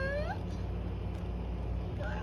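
A cat gives a short rising meow at the start and another faint one near the end, quiet under a steady low hum of background noise.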